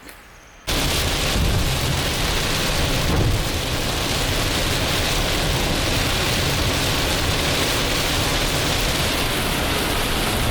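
Heavy rain in Florida pours down as a loud, dense, steady roar that cuts in abruptly after a moment of quiet and then continues without a break.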